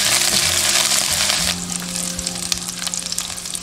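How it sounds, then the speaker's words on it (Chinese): Scallions and ginger sizzle loudly in hot oil in a wok, a dense steady frying hiss that eases slightly partway through, with faint low hum underneath and no talk. "加入葱姜炒香"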